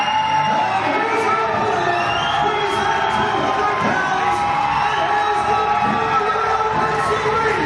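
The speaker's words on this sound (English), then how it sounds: "you can pretty clearly hear that sentiments throughout the Newville crowd here" A record crowd at an IWC Newville Knockout 3 pro wrestling show roars steadily, cheering, whooping and yelling in a dense, loud wall of sound that runs the whole time.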